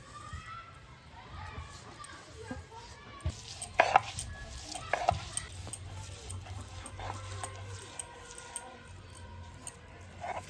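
Fried small shrimp being ground into paste on a flat stone slab with a grinding stone, giving repeated scraping, rubbing strokes and occasional knocks at close range over a low background hum.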